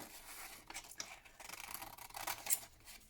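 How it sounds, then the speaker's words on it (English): Scissors snip and trim around a paper cut-out in a papercraft journal, a run of close, crisp cutting strokes and rustling paper over about three seconds, with no voices. "So then I just literally trimmed around it"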